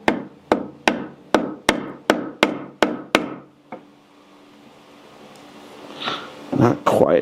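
A flexible putty knife is tapped into a glued wooden joint to pry it apart, giving eight sharp, evenly spaced knocks followed by quieter scraping and creaking as the wood shifts.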